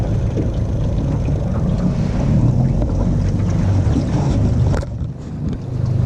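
A fishing boat motor hums steadily, given a little gas, with wind buffeting the microphone, then briefly eases off near the end before picking back up.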